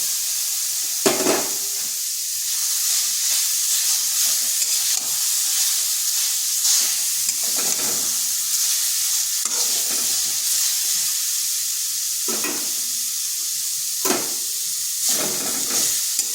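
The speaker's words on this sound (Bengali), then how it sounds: "নারকেলটা একটু ভেজে নিচ্ছি যাতে তার কাঁচা গন্ধটা চলে যায়" Grated coconut dry-frying in a kadai for pitha, stirred with a spatula: a steady close sizzle runs throughout, broken by repeated scraping strokes roughly every one to two seconds, with no voices.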